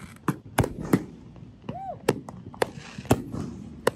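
Fireworks display exploding in sharp, loud booms spaced irregularly, about ten bursts, with a rising whistle among them and faint crowd noise underneath.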